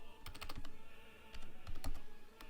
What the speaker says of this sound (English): Hope you enjoy the typing.